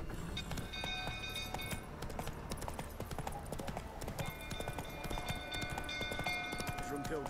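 Horse hooves galloping in The Witcher 3 video game, a steady rhythmic clip-clop of rapid hoofbeats running throughout, with game music and occasional voices beneath.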